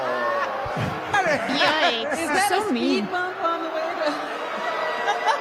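A studio crowd reacts aloud as a woman pulls a bag off her head, a swell of murmuring, groans and scattered laughter rising under and around speaking voices.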